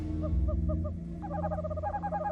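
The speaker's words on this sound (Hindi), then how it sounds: "उल्लू की आवाज।" An owl hooting in short repeated calls, first a few spaced hoots, then a quicker run of hoots, over a quiet low background hum.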